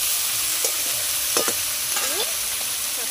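Greens sizzling in a hot pan as they are stirred, a loud continuous fry with a few utensil scrapes and clanks against the pan.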